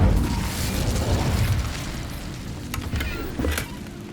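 Incendio fire spell cast in Hogwarts Legacy: a loud whooshing burst of flame at the start, settling into a rushing crackle, with a couple of sharp pops and flares near the end.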